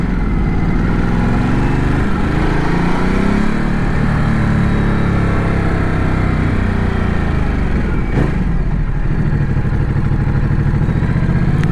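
A Ducati Multistrada motorcycle engine drones loudly and steadily while riding downhill through tight turns on a Gran Canaria road, the pitch gently rising and falling with throttle changes, heavy wind rush throughout and no voices.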